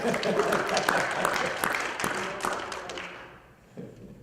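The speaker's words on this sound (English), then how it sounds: "Let's hear a round of applause for Dan." An audience at a business client-relations talk applauds a guest named Dan, brisk clapping from a modest crowd that tapers off, with a few scattered claps near the end.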